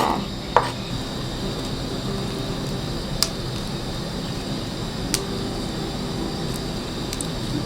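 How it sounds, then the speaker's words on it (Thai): A few sparse knife strokes on a board, spaced seconds apart, while preparing Thai tom kha chicken with banana blossom, over a steady background hum from a fan or air conditioner. "หั่นเหมือนโปรเฟชชั่นอลเลยโฮมคุกค่ะ"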